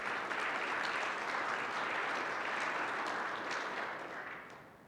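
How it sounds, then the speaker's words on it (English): Sustained applause from a conference audience after a talk, a dense, steady wash of many hands clapping for about five seconds before tapering off at the end. "A round of applause, please."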